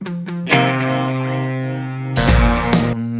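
Sustained, distorted electric music with a lingering reverberant wash from reverb with no pre-delay, notes ringing out before a louder crashing section near the end.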